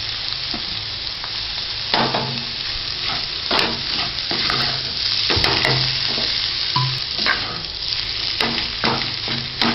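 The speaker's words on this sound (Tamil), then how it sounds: "இப்போ இந்த மாதிரி நல்லா வதக்கிக்கிட்டோம்" Kothu parotta, a Madurai-style egg parotta, sizzles loudly and steadily in a pan, with repeated scraping and clanking stirring strokes throughout.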